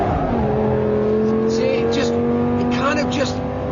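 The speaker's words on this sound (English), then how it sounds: "So second gear, pitch it in, and apply the power." Lamborghini Gallardo SE pulling hard in second gear out of a corner, its engine note rising steadily and loud throughout, with brief tire squeal and a voice speaking over the drone.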